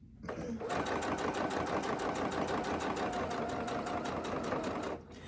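A sewing machine stitches a Moondance notepad in one steady, loud run of rapid needle strokes for about five seconds, then winds down.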